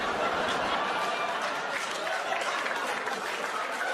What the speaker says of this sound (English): Applause break on a joke I've never said before on my special.